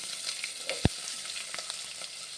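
Garlic frying in oil gives a faint, soft sizzle, with a single sharp clack from a spoon or pan partway through, and no voices are heard.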